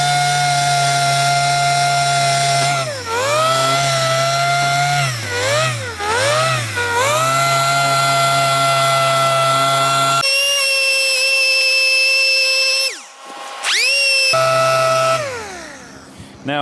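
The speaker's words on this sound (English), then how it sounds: "So let's get this paint sanded back." Power sander running continuously while sanding back paint on a Chevrolet C-10 truck body, a loud steady whine whose pitch dips and rises repeatedly as pressure changes, briefly cutting out before revving back up.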